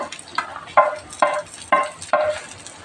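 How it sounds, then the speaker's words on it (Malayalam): Chopped onion and tomato go into hot oil for a sardine curry, and five evenly spaced scraping, clattering strokes of a spoon stir them against the pan over a soft sizzle. Close and distinct, with no talk. "നമ്മൾ അരിഞ്ഞ് വെച്ചിരിക്കുന്ന സവാളയും തക്കാളിയും നമുക്കെല്ലാം കൂടി ഒന്നിച്ചാണ് ഇടുന്നത് ഒന്നിച്ച് ഈ എണ്ണയിലേക്ക് ഇട്ടിട്ട്"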